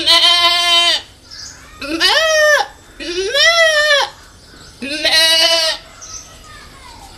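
A person imitating a goat bleating, four wavering nasal bleats in a row, each about a second long, separated by short pauses, loud and close.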